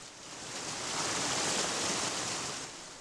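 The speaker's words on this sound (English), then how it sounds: "Picture trying to stop this water from flowing over the dam." Water pouring over a dam makes a broad, steady rushing roar that swells in the middle and eases off toward the end. It is continuous and moderately quiet, with no voices.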